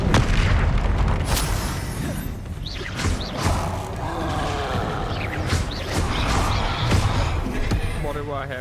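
Spell-casting combat in Hogwarts Legacy, with a Confringo spell explosion among a run of booms and bursts that repeat throughout, loud and dense, while a voice speaks over the action.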